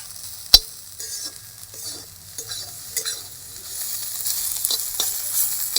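Taro stolons fry with garlic paste in hot oil, giving a steady close sizzle with a sharp clatter near the start and scattered stirring scrapes. The hiss swells louder toward the end.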